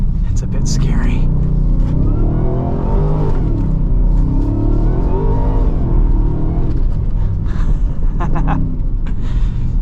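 A 2023 Ford F-150 Raptor R V8 drives through snow, its engine a loud, steady, deep rumble with rising and falling revs, heard under continuous talking inside the cab.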